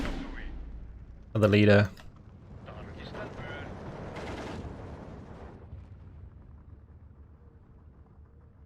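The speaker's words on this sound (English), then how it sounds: "That must be like just artillery hitting us there" Artillery shells strike units in the WWII strategy game Steel Division 2 during a Karelia campaign battle, one loud, sharp blast cutting through a dense background of battle noise while someone talks.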